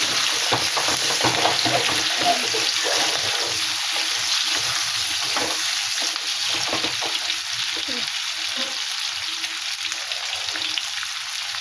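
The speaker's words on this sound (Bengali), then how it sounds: "একটু নেড়ে চেড়ে আমি কচুগুলো দিয়ে দিলাম। মানকচুর সঙ্গে একটা আলু দিয়ে দিলাম।" Taro (man kochu) and a potato stirred in a hot pan of oil, a steady frying sizzle with scraping stir strokes throughout, loud and close, no voices.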